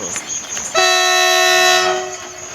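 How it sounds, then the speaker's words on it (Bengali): A loud train horn blares in a sustained, steady tone for over a second, starting abruptly and fading at the end, over rumbling rail noise. "ওই দেখো পুরা লাইট মেরে ট্রেনটা আসছে"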